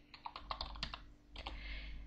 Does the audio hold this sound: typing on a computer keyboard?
yes